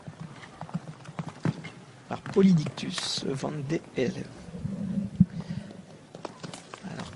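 Hooves of an 11-year-old Belgian horse clip-clop across the course at a European eventing championship, moderately close, while a commentator talks over them.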